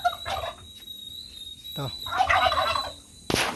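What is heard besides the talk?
turkeys gobbling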